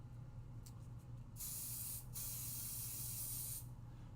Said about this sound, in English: Let me use some pixie spray because this is a very delicate stencil.